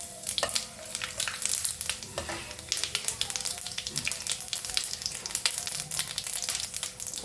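Whole spices (cinnamon sticks, cloves, small cardamom, bay leaf, dried red chilli and cumin) sizzle in hot oil for a Bengali cabbage ghonto, a close, steady crackling fry with sharp pops and occasional stirring, no talk.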